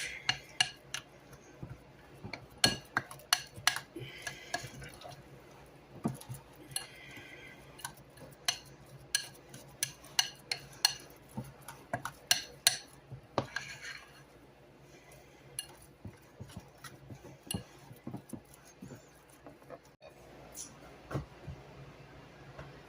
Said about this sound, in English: Mix this all together.